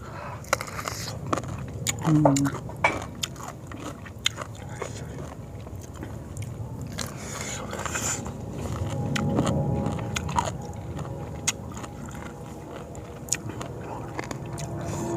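Close crunchy chewing and biting of a spicy green mango salad with thick fermented fish sauce, repeated crisp bites and munching under intermittent talk.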